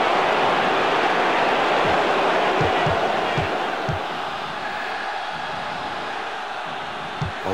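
A stadium crowd in the SWOS football game keeps up a broad, steady roar of cheering, with a few low thuds underneath that ease off slightly toward the end.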